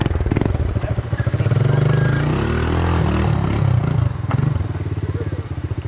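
Three-wheeler engine revving hard while racing, a close raspy buzz with choppy pulsing throttle at the start and end and a sustained wail in the middle, with some clatter.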